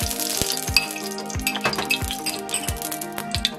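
Oil sizzles around foxtail millet adai in a pan, a steady close frying hiss with repeated light metallic clinks and scrapes of a utensil throughout.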